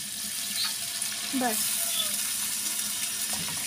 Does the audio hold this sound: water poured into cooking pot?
yes